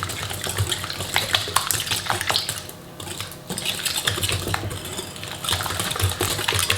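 Whisk clattering against a bowl while four whole eggs and sugar are mixed for chestnut cream muffins, a busy, continuous clinking and scraping close up with no voices.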